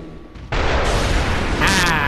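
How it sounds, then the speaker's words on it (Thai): Cannon fire in a video game dungeon crawl: a loud, booming blast bursts in after a brief quiet start and rolls on as a dense, sustained roar of close explosions. "ได้ยินเสียงปืนใหญ่ไหมฮะ"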